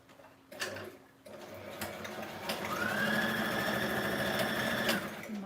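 A sewing machine stitches fabric at close range, starting with short bursts and then running steadily with a fast mechanical rattle and a faint whine, alone without talk.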